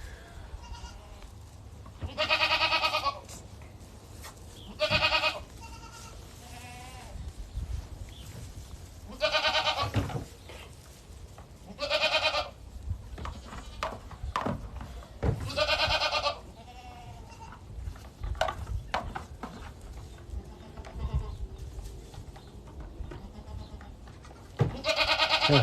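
A dark-headed goat named Dolores bleats repeatedly to her young kid on a farm in Rio Rancho, New Mexico, loud calls recurring in bursts over low background noise.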